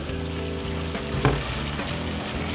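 Unsalted butter sizzles and fries steadily in a cast iron pan, a continuous close crackle with a brief stir or clink partway through and no speech.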